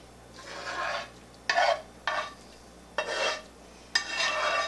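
Cooled onions with olive oil are stirred into an 8-ounce can of tomato sauce for yaprakia, giving five distinct wet scraping strokes of a spoon against the pot, each about half a second long, close up with pauses between.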